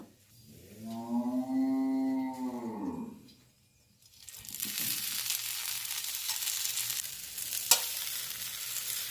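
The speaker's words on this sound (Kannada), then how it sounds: "ಸ್ವಲ್ಪ ಆಯಿಲ್ ಹಾಕಿ ಫ್ರೈ ಮಾಡೋದು." Stuffed okra (bendi) fries in oil in a pan; after a sustained tonal note fades, a steady, even sizzle begins and holds close and moderately loud, with one brief sharp click near the end.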